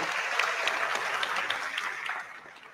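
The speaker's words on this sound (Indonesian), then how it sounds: "kita akan sama-sama memberikan apresiasi tepuk tangan kepada seluruh calon presiden yang sudah menyampaikan visi misinya" An audience applauds the presidential candidates after their vision-and-mission speeches before the first debate at the election commission. The clapping is dense and continuous, then fades slightly at the end.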